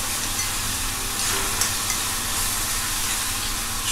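Garlic tempering sizzles in hot oil, a close, loud, continuous frying hiss with faint stirring movement and no talking.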